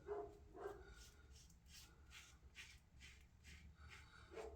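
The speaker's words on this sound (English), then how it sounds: "There's a dog barking again." A dog barks repeatedly in a steady series of sharp yaps, faint and distant against a quiet background.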